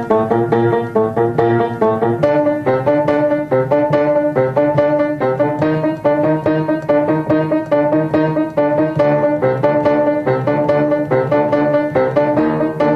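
Piano playing a theme, a steady repeating pattern of sparse notes over sustained low tones, close and moderately loud, with no voices.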